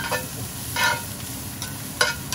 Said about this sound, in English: Let's move that garlic around.